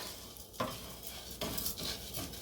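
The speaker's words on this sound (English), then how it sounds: "all we're going to do is move the rice around a bit" Arborio rice being stirred in oil in a pan for pumpkin risotto: a soft continuous sizzle broken by a few scraping stirring strokes, close and fairly quiet, with no speech.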